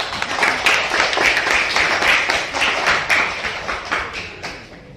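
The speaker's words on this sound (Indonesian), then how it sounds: "Mari kita beri tepuk semangat." A classroom group claps in a rhythmic encouragement cheer, quick repeated claps in bursts that carry on for several seconds and taper off near the end.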